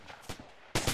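Tracer gunfire in a military video game: a few short bursts of shots, softer at first, then one loud close crack at the end.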